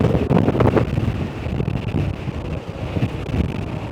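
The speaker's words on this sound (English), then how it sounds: "the wind is no joke today" Strong wind buffets the microphone on a Santorini coast, a loud, steady roar that rises and falls over the whole stretch with no speech.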